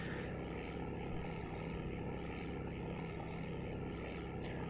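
An airplane engine in the FlightGear flight simulator drones steadily, a loud, even propeller hum that holds without change throughout.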